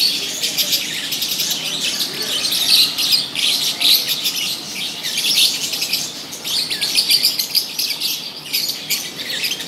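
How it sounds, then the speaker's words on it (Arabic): Many small birds chirp and tweet together, a bright continuous twittering chorus with occasional squawks, loud and close, with no one speaking. "حنخليكم مع زقزقه العصافير"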